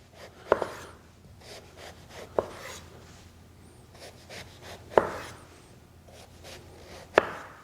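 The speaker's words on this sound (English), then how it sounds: "We're going to cut down just however thick you want these pieces to be" A knife slices through peeled food on a cutting board in four sharp, widely spaced chops, close and clear, with quiet rustling and scraping between the cuts and no voices.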